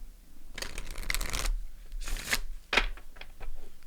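A deck of tarot cards is shuffled and cut in several loud riffling bursts, each a dense papery flutter, close by with no talking.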